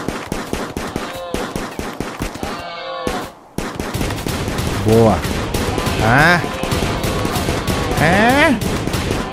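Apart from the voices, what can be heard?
gunfire from colonists shooting in video game RimWorld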